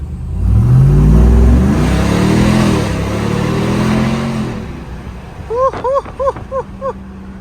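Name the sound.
Ram TRX with Carven R-Series exhaust accelerating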